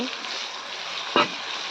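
A steady hiss of ginger and garam masala paste frying in a pan, with cinnamon and cardamom, broken by one brief splash as water hits the hot spices, then the sizzle carries on.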